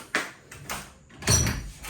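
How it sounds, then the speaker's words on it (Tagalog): A door is opened in a home, heard as a few short knocks and clunks, with a fuller, louder rattle near the end, all fairly close and without speech. "Buksan na natin yung pinto doon para may pumasok na hangin."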